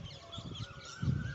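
Birds at a bus station give a few faint, honking calls in quick succession, fairly distant, with no talk.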